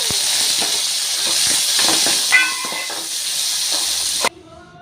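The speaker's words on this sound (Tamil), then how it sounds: "இப்போ நம்ம தாளிச்சிடலாம். டூ டேபிள் ஸ்பூன் ஆயில், கடுகு, ஜீரகம், கருவேப்பிலை." Mustard seeds, cumin and curry leaves temper in two tablespoons of hot oil for a ridged gourd chutney, giving a loud steady sizzle with scattered pops and crackles before cutting off abruptly near the end.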